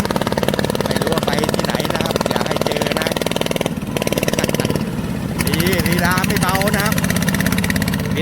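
A Yanmar-engined Thai walk-behind tractor with an exposed engine, a Bang Na frame and homemade mudguards runs steadily nearby, its rhythmic engine chug continuing throughout with a brief dip midway, while someone talks over it.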